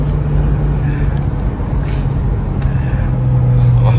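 A 2007 Toyota Innova 2.0 moving fast along a road, heard from inside as a steady low engine and road rumble with faint background sounds throughout.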